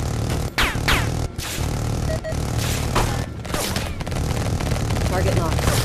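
Helicopter cannon gunfire in the VR combat game Air Corp, bursts of rapid shots and booming impacts mixed with whooshes and rotor-like rumble, loud and close, with no talk.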